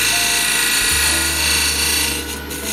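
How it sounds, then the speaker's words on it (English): A lathe gouge cuts a dovetail into spinning myrtle wood, a loud, close, continuous rasping scrape over the motor's steady hum, shifting in pitch partway through. "So I'm just going to use this one now to cut a, like a dovetail on here."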